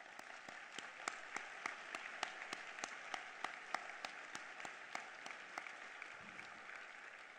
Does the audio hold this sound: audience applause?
yes